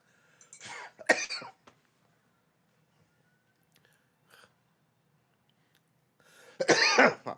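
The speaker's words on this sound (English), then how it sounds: "I was trying to suppress that cough" A few sharp coughs come in quick bursts, with a brief pause and small throat sounds, then a louder cough near the end in a quiet room.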